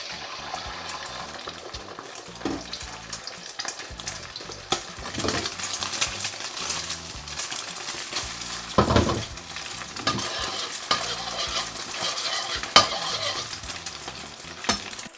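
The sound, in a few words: beaten eggs frying and stirred in hot oil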